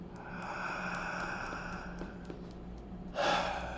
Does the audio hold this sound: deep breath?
yes